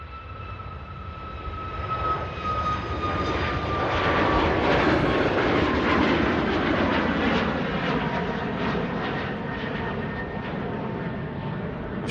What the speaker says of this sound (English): She goes, the Ryanair Max 8200, just rotating there on runway 23 right.